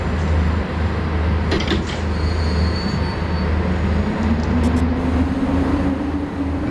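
A train in SimRail starts to roll, a steady low motor drone and rumble with a rising electric whine as it gathers speed, plus a few clunks and knocks.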